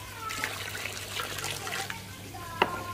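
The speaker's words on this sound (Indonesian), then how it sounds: "Saya tuang di skimmer." Probiotic liquid pours and trickles into the skimmer of a koi pond, a soft continuous splashing over outdoor water ambience.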